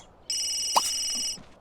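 A telephone rings in The Sims 3, a single clear electronic trill lasting about a second with a small pop partway through, loud and alone.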